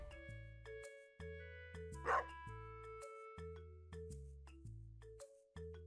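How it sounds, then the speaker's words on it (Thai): A dog barks once in the video game Stardew Valley Expanded, a sharp burst over looping game music with a steady melody, chimes and bass notes. "มาเห่าเหรอไอ้ดัสตี้เห่านะครับ"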